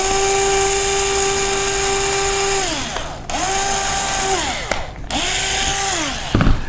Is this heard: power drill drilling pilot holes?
yes